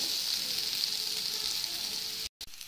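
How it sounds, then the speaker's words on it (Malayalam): Fried prawns sautéed in a pan for a snack with Maggi noodle balls, a steady close sizzle with light stirring, cut by a short silence near the end before resuming more quietly, no voices. "ഇതാ ചെമ്മീനും ഇട്ട് നല്ലോണം വഴറ്റിയെടുക്കാം"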